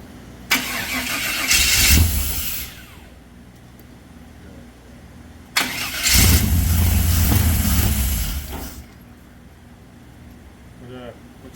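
A buggy engine after an engine swap is cranked twice, each attempt a loud chugging burst of a few seconds that catches briefly before dying, with people talking between tries.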